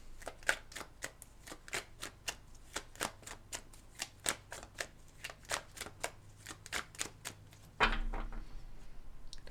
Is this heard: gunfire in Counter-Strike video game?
no